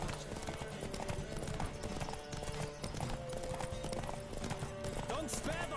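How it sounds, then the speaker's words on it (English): Rapid rhythmic hoofbeats of a galloping horse in The Witcher 3 video game pound steadily under voices and busy background sound. "Don't spare the horse!"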